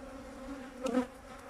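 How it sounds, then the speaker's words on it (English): Honeybees fanning after a hive split, a steady close buzz humming on with a brief louder swell partway through. "And it's a natural reaction when you split a hive, they fan."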